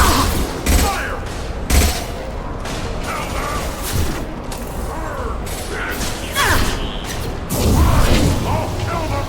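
Gunfire in the sci-fi shooter Mass Effect 2, with repeated sharp bursts and booming impacts spread through a dense, noisy battle mix, voices talking over parts of it.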